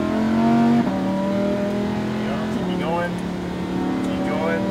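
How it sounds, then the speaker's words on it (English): A Lamborghini Huracan on the Speed Vegas track accelerates under a driving instructor's voice, its engine a loud, close tone that rises and shifts pitch as the throttle is reapplied, with speech running over it throughout. "Back on the throttle again. More gas. Accelerate more."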